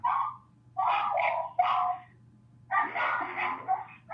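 A dog barks in the background in short bursts, a few sharp barks followed by a longer cluster, over a low steady hum, with no talk.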